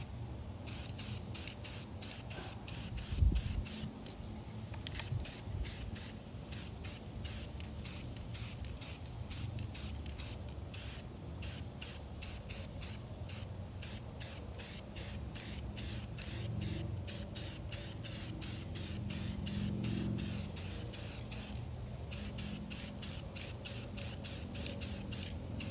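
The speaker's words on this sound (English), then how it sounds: "let's just spray this side and see what it does." Rapid, steady hissing bursts of spray paint applied in light coats to an arcade cabinet repeat in quick succession for a long stretch, close up, with faint rustling underneath and no voices.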